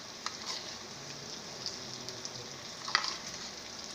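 Milk cream goes into a pan of bhindi gosht, which sizzles and fries with a steady, soft crackle and a few sharper pops and spatters, close and quiet, with no talking.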